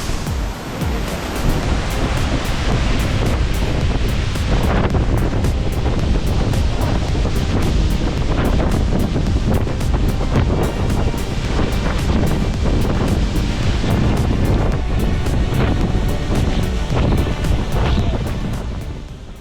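Heavy spray and rushing water at Rijji waterfall in Haveli District, Azad Kashmir, a dense, constant roar up close, mixed with buffeting wind on the microphone.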